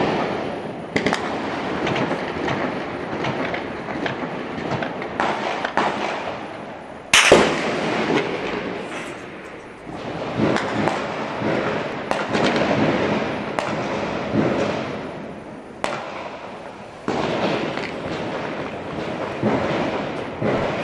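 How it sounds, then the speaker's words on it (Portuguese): Gunshots and bomb blasts go off repeatedly in the distance at night during an armed bank raid in Criciúma, Brazil, some louder cracks standing out, with a steady rumbling background in between. "Muitos tiros, muitas bombas, numa madrugada de violência em Criciúma"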